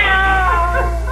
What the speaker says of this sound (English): I'm certain that was a cat.